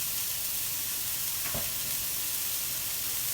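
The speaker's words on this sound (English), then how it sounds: "Let that saute." White onion sizzles while sautéing in a hot pan, a steady close frying hiss with a brief stirring scrape partway through and no voices.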